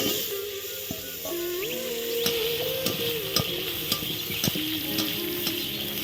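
Cumin seeds frying in hot oil in a pan, a steady close sizzle with occasional spatula scrapes and light clicks against the pan, with no talk.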